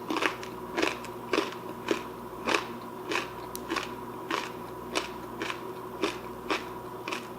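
Close, crisp crunching of roasted wheat berries repeats at a steady chewing rhythm, each bite a short dry crackle, with no talking.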